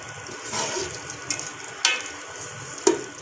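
A medium onion fries in a pan with a soft, steady sizzle, close by, broken by a few brief sharper crackles.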